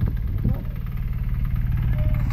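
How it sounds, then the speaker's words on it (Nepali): A tractor engine running while being driven in a rural village, a steady low chugging rumble throughout, close and loud, with a voice speaking over it. "ट्र्याक्टर चलाउँदैछु"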